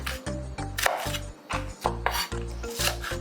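A knife rough-chops an onion on a cutting board, about a dozen firm, evenly spaced thuds in a quick steady rhythm, close and clear with no talking.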